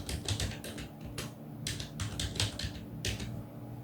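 Password being typed on a computer keyboard during an Ubuntu 21.04 setup in VirtualBox: quick bursts of close, clicky keystrokes with short pauses between runs, no voices.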